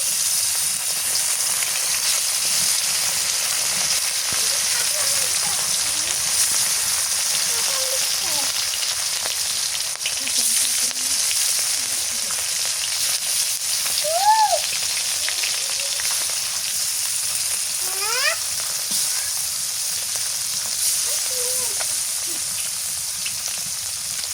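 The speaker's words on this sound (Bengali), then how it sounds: "আমি মাছগুলো সবগুলোই ভাজি করছি" Fresh-season fish fry in hot oil with a loud, continuous sizzling hiss that holds steady throughout, while faint chirps sound now and then in the background.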